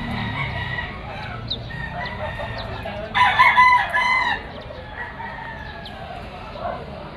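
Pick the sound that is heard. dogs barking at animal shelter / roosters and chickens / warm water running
roosters and chickens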